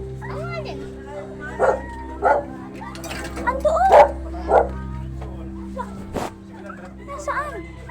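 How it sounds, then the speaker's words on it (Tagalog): A puppy whimpers and yips in several short, high cries spaced across the moment, fairly close, while people talk nearby and a brief rustle cuts in. "Dito ko narinig yung iyak na tuta."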